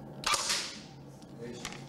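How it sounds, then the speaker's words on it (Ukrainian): A pneumatic assault rifle at a school shooting range fires a sharp, close crack, followed by fainter, softer pops a second later. "Тим часом у тирі лунають постріли з пневматичного автомата."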